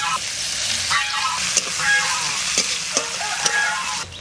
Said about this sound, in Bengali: আর একটু তেল দিয়ে দিচ্ছি এর মধ্যে অল্প পেঁয়াজ দিলাম